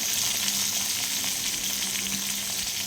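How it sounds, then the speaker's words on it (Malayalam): Grated coconut and spices frying in coconut oil in a pan, a continuous close sizzle with light stirring scrapes, no voices. "മസാലകളെല്ലാം ഒന്ന് വറുത്തെടുക്കാം"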